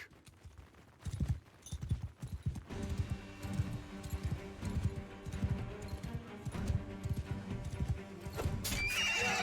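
Horse hooves pound rapidly in Mount and Blade 2: Bannerlord amid a busy, noisy game soundscape with whinnying, clattering and swelling music.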